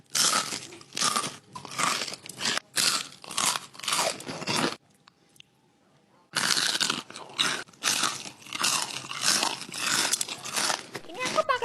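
Crunchy fried onion rings bitten and chewed, giving repeated loud crisp crunches in close, uneven bursts, with a short quiet pause midway.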